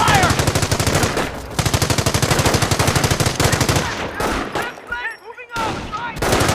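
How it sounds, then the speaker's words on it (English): Machine-gun and rifle fire aimed at a rifle squad in the Company of Heroes war video game, rapid loud sustained bursts with brief pauses and scattered single shots under faint battle voices. "Rifle squad taking fire!"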